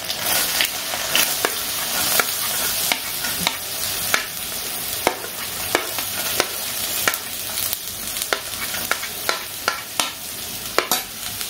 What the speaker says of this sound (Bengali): গাজরটা একটু হালকা ফ্রাই করে নিয়ে